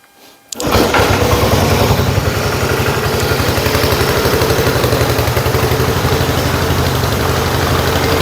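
A Yamaha XS1B motorcycle engine catches after a short start and settles into a steady, loud, close idle with an even pulsing beat, with no throttle applied.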